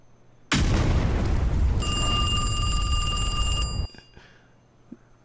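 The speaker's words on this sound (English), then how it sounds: "There seems to be an explosion." An explosion sound effect in the city-building game Timberborn bursts in loud and sudden, then roars on as a sustained blast for about three seconds with a ringing tone layered on top before cutting off abruptly.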